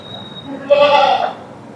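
A single sheep bleats once inside a sheep shed, a short wavering call close by, with faint background noise before and after.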